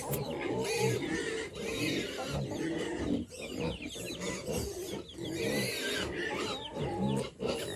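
Farm pigs, large sows and smaller ones, squeal loudly and continuously at close range in overlapping, harsh cries with only brief dips.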